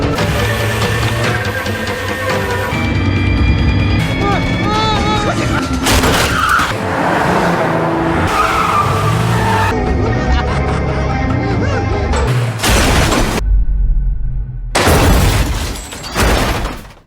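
A film car chase brings loud engines and skidding, squealing tires, followed by crashes with shattering and booming impacts. The dense action sound cuts abruptly between scenes, with a few short silent gaps.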